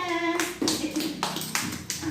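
Four or five crisp claps in a steady rhythm, close and fairly loud, with a faint hum behind them.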